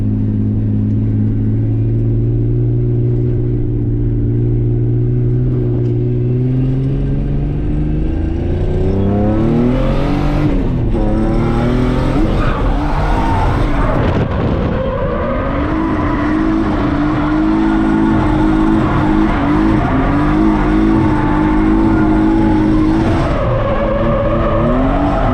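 A turbocharged Nissan S13 runs a lap at a drift event, its engine droning and rising through revs with tire squeal and skidding, loud and continuous throughout.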